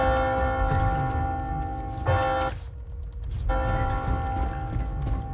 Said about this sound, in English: I hear the bell.